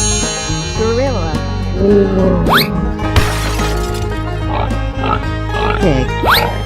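A pig oinks and squeals in several short bursts among game sound effects, including a loud glass shatter, with voices speaking in between.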